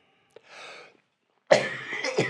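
A man coughs twice, first a softer breathy cough and then a louder, harsher one with a short follow-up, heard close and alone.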